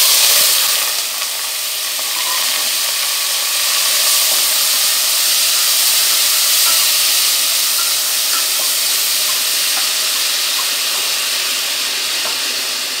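Mutton bone pieces frying in a pan for soup give a loud, continuous sizzling hiss that holds steady throughout, close up and without talk.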